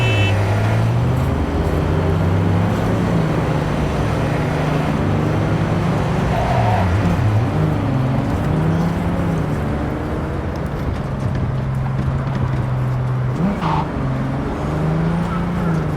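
Car driving in the video game Cyberpunk 2077, a continuous engine hum with shifting pitch as it speeds and slows, heard under a person talking throughout.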